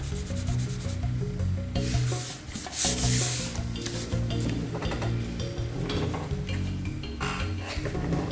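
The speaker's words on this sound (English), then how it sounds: "you're going to rub it onto Kleenex or tissue" Chalk pastel rubbed by hand onto soft tissue or Kleenex for a paper pottery craft, giving a steady close scrubbing and rustling that runs throughout with no speech.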